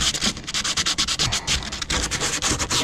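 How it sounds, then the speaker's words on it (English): Edges of a small boat hull being scuffed up by hand where a grinder could not reach: loud, close, rapid back-and-forth abrasive strokes in a steady, slightly uneven rhythm, with no talking. "one thing I wanted to do here was really quickly just scuff up the edges a little bit where I couldn't get in with the grinder"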